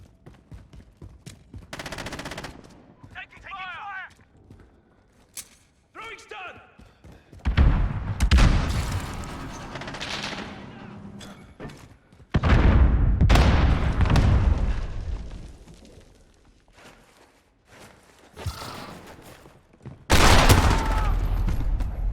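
Loud bursts of automatic gunfire and booming explosions in the Modern Warfare 2019 video game arrive in heavy clusters separated by quieter stretches, with players talking in between.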